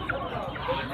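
Chickens clucking at a busy village poultry market where ducks and hens are sold, a short burst of clucks mixed into dense crowd chatter and market noise.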